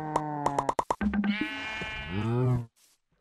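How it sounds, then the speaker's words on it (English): Sheep in the Minecraft video game bleat in a quick burst of short cries followed by one longer drawn-out bleat, close and clear, ending in near silence. "Don't kill the sheep."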